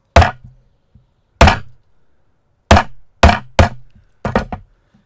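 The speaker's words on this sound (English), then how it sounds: "here I go hammering" Hammer strikes flattening wire for a bead project, six sharp, close metallic taps in an uneven rhythm, separated by short silences, with one faint tap in between.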